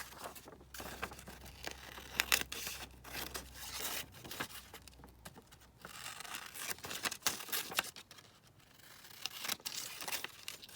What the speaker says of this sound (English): I'm just going to cut that out